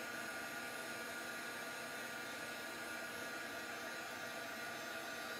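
A heat tool blows hot air onto embossing powder to melt it, producing a steady, continuous hair-dryer-like whoosh of broadband noise throughout with no pauses.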